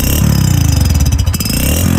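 An old-style motorcycle silencer, filled with water and then drained, sends out a loud engine clatter, heavy and close with a rapid low chugging pulse throughout.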